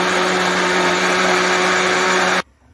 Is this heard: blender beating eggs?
yes